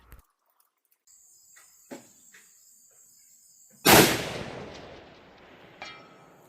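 A single rifle shot from a Winchester Model 70 Featherweight in .270 Win cracks sharply outdoors, then rolls off in a long fading echo, after a quiet stretch with insects buzzing faintly.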